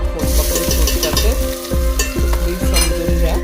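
Asafoetida and cumin dropped into hot ghee sizzle loudly and close by, with a bright crackle and a few sharp clinks of a utensil against the pan. No one speaks.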